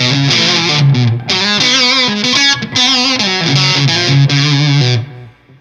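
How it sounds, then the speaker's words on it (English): Electric guitar with humbucker pickups played through a Wren and Cuff Caprid fuzz pedal with the distortion turned low, giving a thick, buzzy, slightly muffled tone as a melodic phrase rings out and fades. "it sort of gets this weird poopy sound when you dial out the distortion a good bit"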